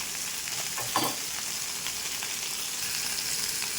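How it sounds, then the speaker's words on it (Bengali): Fish fries in a pan of oil, giving a continuous close sizzle with soft crackling and a brief knock of utensil contact near the one-second mark, no talking. "ভালো সুন্দর করে ভাজা হয়ে যাবে আর তারপরে কিন্তু আমি উল্টে দেবো এখনও উল্টাবো না মাছটা হতে থাকুক"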